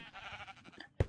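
A single short sheep bleat from the Minecraft video game, sharp and fairly close, following a faint stretch of background sound with no speech.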